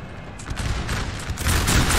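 British infantry firing massed musket volleys in Napoleon Total War: dense, crackling rolls of gunfire that build steadily louder and thicker toward the end, with no speech.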